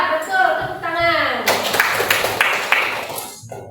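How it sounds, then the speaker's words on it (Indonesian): A classroom of students claps hands together in a short burst of mixed, overlapping claps after a teacher's voice, with a voice continuing briefly under the clapping. "Tepuk tangan."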